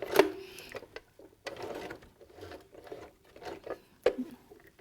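A home sewing machine stitches over fabric and elastic on a reusable face mask, running in short bursts of rapid mechanical whirring and clicking separated by pauses, fairly quiet and close.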